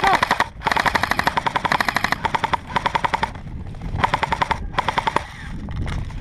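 Rapid automatic gunfire in a video game, loud bursts of rattling shots separated by short pauses, close and dominant with faint voices underneath.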